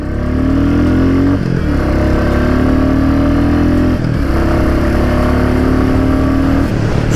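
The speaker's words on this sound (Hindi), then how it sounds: "करते हैं गाड़ी को स्टार्ट। तो इस बार जो एग्जॉस्ट नोट है काफ़ी पंची बना दिया है" A 2022 Royal Enfield Classic 350 in Stealth Black idles and revs steadily, its single-cylinder exhaust giving a loud, punchy, continuous thump close by, with a couple of brief dips in revs and no talking.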